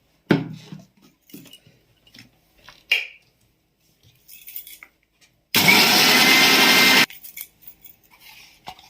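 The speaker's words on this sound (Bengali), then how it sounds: "এইটা দিয়ে আমি মিক্সার গ্রাইন্ডারে একটা পেস্ট তৈরি করব।" A mixer grinder whirs loudly for about a second and a half, blending a cup of white oil with sugar into a paste. Before it runs, there are scattered clinks and knocks of kitchen utensils.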